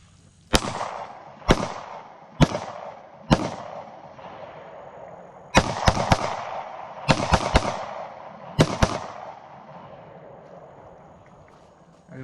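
A Taurus GX4 pistol fires nine sharp, loud shots in irregular bursts, some singles and some quick doubles, each followed by a ringing outdoor echo that fades before the next report.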